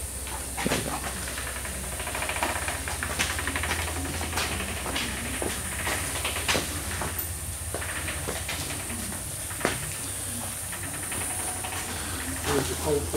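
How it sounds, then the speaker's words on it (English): Engine of a Glasspar G2 car on a newly completed chassis idling steadily in a workshop, a continuous low rumble with hissing noise and occasional clicks and knocks around it. "Engine's running."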